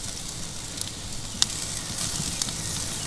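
Steady hiss of a T-bone porterhouse steak searing over charcoal on a Kamado Joe grill, with a few faint pops and crackles, close and fairly quiet, no voices.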